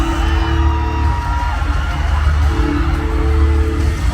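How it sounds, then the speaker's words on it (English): Festival crowd at the T'nalak Festival 2023 pageant venue in South Cotabato, a dense, loud, continuous wash of cheering, whoops and yells that fills the whole stretch without pause. "Heard from the crowd, this is crazy excitement here inside our venue."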